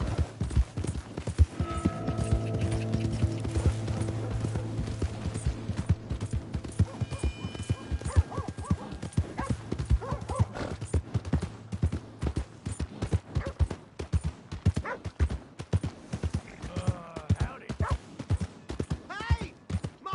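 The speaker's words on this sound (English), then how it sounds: "Hey! My horse!" Rhythmic clip-clop of horse hooves in Red Dead Redemption 2, steady and fairly close, with a brief horse whinny near the start and voices over it.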